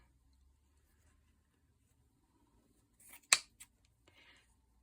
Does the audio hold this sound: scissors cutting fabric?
yes